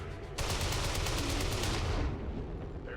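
Gunfire erupts in a video game played on veteran difficulty. After a quiet moment, a dense, rapid automatic burst starts abruptly and hammers on for nearly two seconds, then gives way to fainter, scattered shots.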